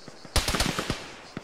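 Rapid gunfire crackles in a military shooter game, a sharp burst of several close, loud shots in quick succession followed by a couple of fainter pops.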